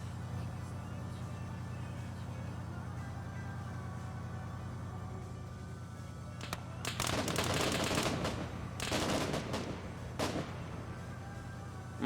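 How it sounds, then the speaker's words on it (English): Machine gun fire rattles in a military video game, arriving as several loud, tight bursts of rapid shots over a steady low engine-like drone, with brief pauses between volleys. "Some machine gun fire going Zope's way here"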